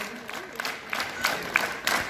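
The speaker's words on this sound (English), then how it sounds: "You have to be up and clap together." School students clapping together in a class drill, loose scattered claps landing in rough unison at roughly regular beats, with faint voices in the background.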